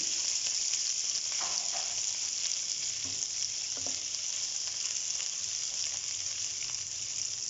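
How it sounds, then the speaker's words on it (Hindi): Garlic, green onion and vegetables sizzle steadily in a hot pan on a home stove, a constant frying hiss with occasional soft stirring scrapes, with no talking. "देखिए, हमारे लहसुन अब सौते हो चुके हैं।"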